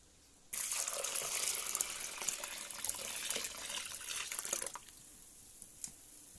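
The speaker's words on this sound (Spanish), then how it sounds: "así que le agregamos agua" Water pours steadily into a bucket of cooked corn for about four seconds, a close, broad splashing gush that then stops abruptly, leaving a few faint drips and quiet room tone.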